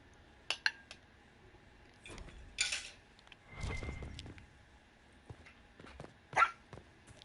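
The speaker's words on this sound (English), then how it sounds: "Zelda, why are you barking?" A pet dog named Zelda lets out a few scattered, fairly faint barks in a quiet room, with some light clinks in between and long stretches of near silence.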